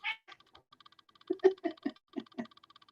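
A cat gives a series of short, close meows in quick succession against a quiet background, with a faint chirping patter between the calls.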